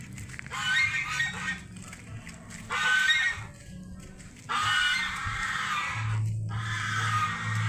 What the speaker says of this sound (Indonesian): Kita lihat bebek angsa itu.